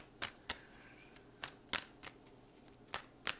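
Tarot cards are shuffled and drawn in a quiet room, with a series of sharp, separate snaps and flicks in an irregular rhythm, faint and close, and no voice.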